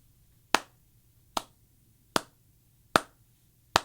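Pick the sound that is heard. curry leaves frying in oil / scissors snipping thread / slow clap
slow clap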